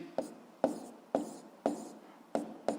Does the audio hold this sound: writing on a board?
yes